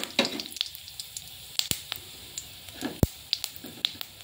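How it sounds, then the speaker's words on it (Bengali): Whole cumin seeds and bay leaves sizzle quietly in hot oil in a wok, with a soft hiss broken by scattered sharp crackles and pops at irregular intervals. "কড়াইয়ের মধ্যে ওই তেলেই আমি দিয়ে দিলাম একটু গোটা জিরে আর তেজপাতা ফোড়ন।"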